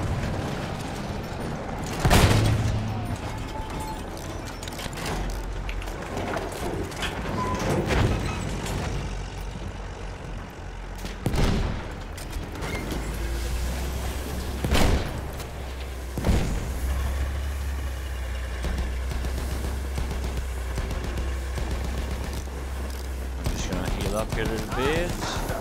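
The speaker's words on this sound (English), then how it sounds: "there is a surprising amount of fire coming my way" Gunfire and rockets in the video game Battlefield 1 on the Amiens map from a St Chamond tank: scattered loud booms and shots over a low engine rumble, with a voice talking at times.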